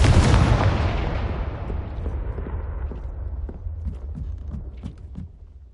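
A Confringo blasting spell from Hogwarts Legacy goes off in one loud close explosion, its booming roar slowly decaying over several seconds with faint crackling debris, no voices heard.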